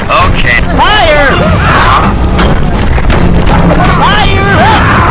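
Booming dynamite blasts in the video game Sly Cooper 2, loud and constant through the clip, mixed with busy game effects, sweeping whistles and music.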